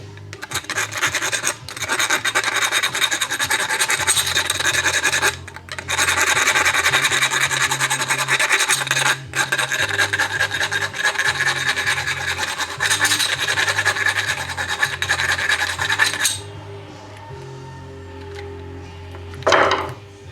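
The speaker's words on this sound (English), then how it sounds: "metal file and just clean out the inside of this one here a little bit" A metal file rasps at burrs inside a metal piece, close and loud, in steady back-and-forth strokes with brief pauses that run for about sixteen seconds before stopping.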